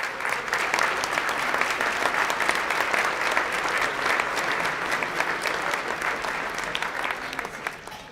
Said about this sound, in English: I'd like to have a round of applause for our City of Irving staff